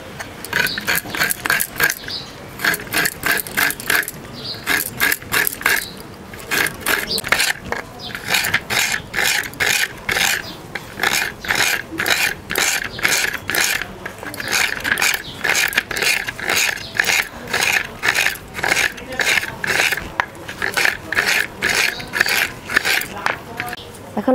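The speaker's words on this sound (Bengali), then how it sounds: "এবার কুড়িয়ে নেব" Coconut flesh is scraped on a hand grater in quick repeated strokes, a rhythmic rasping that runs steadily with short breaks, close and fairly loud.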